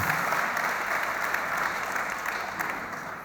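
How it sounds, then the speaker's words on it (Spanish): Sustained applause from an audience at an agri-food forum, honouring a regional agriculture minister; dense, steady clapping fills the room for the whole stretch, with no voices on top. "Yo creo que merece un aplauso."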